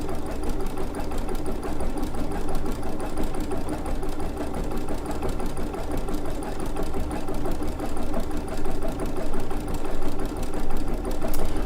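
An embroidery sewing machine stitching and couching yarn runs at a steady self-set speed, giving a loud, close, continuous rapid mechanical chatter with slight pulsing and no voices.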